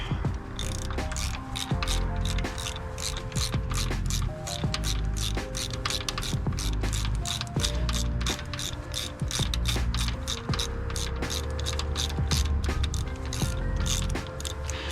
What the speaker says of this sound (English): we now need to mount the mounting bracket by taking off this bolt here using the 15mm